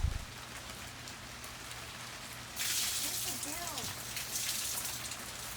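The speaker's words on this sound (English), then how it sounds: "it started to rain" Rain falls steadily, its soft hiss growing heavier partway through, with faint wavering tones in the background.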